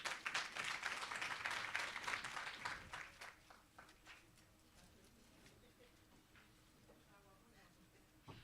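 Audience applause at a startup engagement meeting, a dense burst of clapping from a room of people that fades out after a few seconds into quiet room tone with scattered soft sounds.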